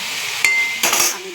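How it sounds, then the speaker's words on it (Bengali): A metal lid set onto a cooking pot of fish and potato chorchori, two sharp clinks about half a second apart, the first with a short ringing tone, close and clear with no talk. "আমি ঢেকে দিলাম।"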